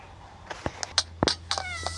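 Cat meowing inside the video game Deadly Delivery: a string of short, clear meows in quick succession, close and fairly loud, over a low steady background hum.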